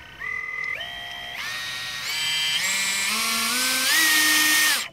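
A RIDGID 18V subcompact multi-material saw spins up close by with a whining motor hum whose pitch steps upward several times as speed rises toward full, heard alone.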